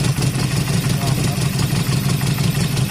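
A Honda CB250 Nighthawk bobber, just fitted with swapped carbs, idles to warm up, a steady close engine putter running evenly the whole time.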